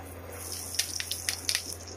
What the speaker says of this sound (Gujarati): રઈ ચટચટ થવા માંડી છે,